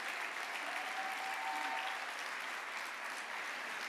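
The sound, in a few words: audience applause at a Hall of Fame event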